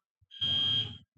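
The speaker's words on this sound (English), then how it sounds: "that is the fire alarm going off here at Fox 59." A fire alarm sounds inside a TV news studio, a loud, steady high-pitched tone held for about half a second with a low rumble underneath, then cutting off.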